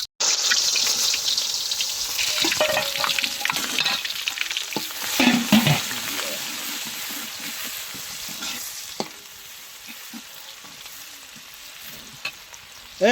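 Food fries in hot mustard oil while being stirred, with a bright sizzle and scraping spatula strokes that are loud at first, then settle into a quieter, steady crackle.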